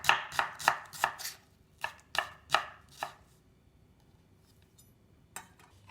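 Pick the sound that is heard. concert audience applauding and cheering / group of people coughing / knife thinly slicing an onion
knife thinly slicing an onion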